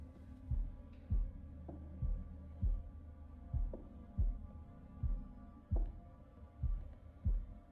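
Heartbeat in the horror video game The Devil in Me during a heartbeat challenge: a steady, low thumping pulse of about a dozen beats, evenly spaced and fairly quiet over a faint hum.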